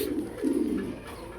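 A female pigeon at a pigeon farm gives a low, throaty coo, close and clear, fading into quiet handling noise.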